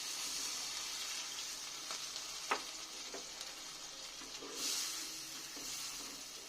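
Water poured into a sizzling fried mustard and poppy seed masala, a steady close frying hiss with a few soft stirring taps and a brief watery surge.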